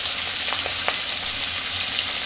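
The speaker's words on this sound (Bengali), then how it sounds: "যে মাছ ভাজা বসিয়ে দিলাম," Fish frying in a pan in a home kitchen, giving a steady close broadband sizzle with a few brief clinks or stirring taps and no talking.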